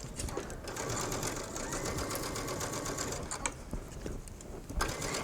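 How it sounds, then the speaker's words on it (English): A sewing machine running a straight stitch along a sleeve being eased into an armhole, a steady close mechanical whir with a fast needle chatter and small clicks. "I'm just going to stitch a portion of this so you can see what it looks like"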